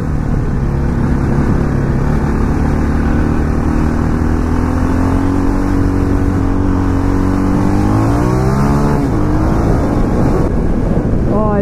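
KTM LC4 640 single-cylinder motorcycle engine on a test ride, a loud steady thumping drone that rises in pitch as it accelerates, with wind buffeting the microphone throughout.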